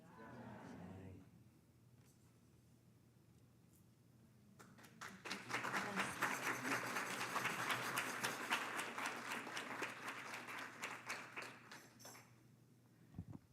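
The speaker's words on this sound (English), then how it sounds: "Can we give them another round of applause?" Audience applause for the musicians at a satsang, swelling after a quiet lull into a sustained dense wash of clapping for several seconds before fading back down.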